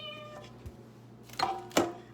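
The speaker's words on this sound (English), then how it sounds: "You want to see our annoying cat? This is our annoying cat." A house cat gives two short, clear meows in quick succession near the end, close to the listener in a quiet kitchen.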